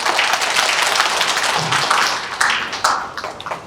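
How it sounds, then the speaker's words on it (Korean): An audience at an academic conference applauds, a dense burst of clapping that fills the room and thins out toward the end. "박수 부탁드립니다."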